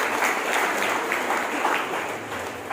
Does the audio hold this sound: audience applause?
yes